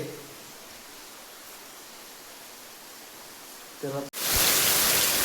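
Heavy monsoon rain falls in Konkan as a steady, even hiss, then a sudden thud and a much louder, closer roar of rain and water noise takes over at the end.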